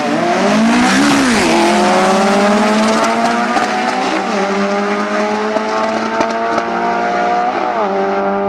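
Drag race cars making a Super Pro time trial pass at a drag strip, engines roaring loud and continuous with rising and falling pitch as they accelerate through gears, tires squealing briefly.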